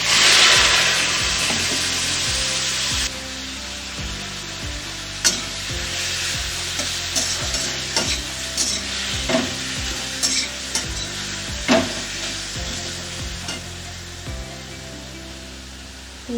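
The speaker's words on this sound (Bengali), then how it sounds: "এবার আমি সর্ষে আর শুকনো লঙ্কা ফোড়ন দিয়ে দেব।" Mustard seeds, dried chillies and elephant foot yam stems fry in hot oil, giving a loud, close sizzle overlaid with repeated scraping strokes of a spoon or spatula stirring the pan.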